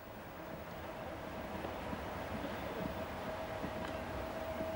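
Vintage GFM CEG electric rail car numbered 111 hauling preserved excursion coaches on a Swiss line, a steady low rumble of running wheels and motors with a faint sustained tone, continuous and fairly close with no talk.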